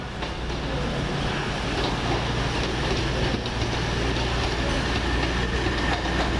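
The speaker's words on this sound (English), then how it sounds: "Now coming in at 10:49, Virgin Trains double super voyager service from London Euston to Holyhead via Chester" A Virgin Trains double Super Voyager on the London Euston to Holyhead via Chester service pulls into Crewe station, a loud, steady rumble of engines and wheels filling the platform without a break.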